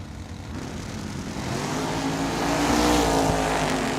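Drag racing car running down the Tucson Dragway, a loud sustained engine roar building in intensity over a few seconds, with broad mechanical noise and no voices.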